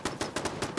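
Rapid automatic gunfire from a video game firefight in Fallout 4, five sharp loud bursts in under a second at an even, fast rhythm with no talking.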